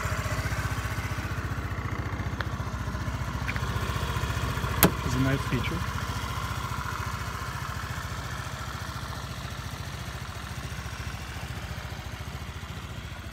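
A 2010 Honda Elite 110 scooter's small 8.9-horsepower engine idles steadily with a low, even putter throughout, a brief knock partway through, while someone speaks briefly over it.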